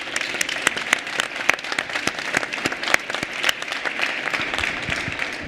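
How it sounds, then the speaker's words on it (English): Applause from attendees for panelists at a conference session, a moderate, uneven patter of individual claps from a smallish audience, sharp separate hand strikes over a softer wash, with no talking. "I will give an applause to the panelists that really did the best."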